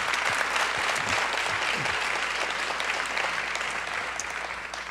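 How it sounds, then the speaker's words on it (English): Sustained applause from a large audience at a healthy schools forum, a dense steady wash of clapping lasting throughout and tapering slightly toward the end, with no voices over it. "we should give them another round of applause"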